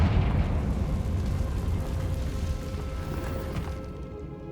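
Loud Confringo fire spell blast in the Hogwarts Legacy video game, a dense rumbling explosion that starts strong and slowly fades over several seconds, with no talk.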